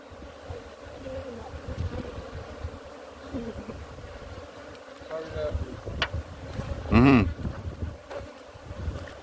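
Africanized honey bees buzz and drone around close by during hive work in Guyana, rising to a loud nearby buzz as one passes, with people talking intermittently underneath.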